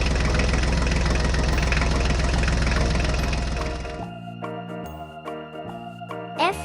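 A farm tractor engine runs loud and steady with a deep, rhythmic idling chug for about four seconds, then cuts off and gives way to music.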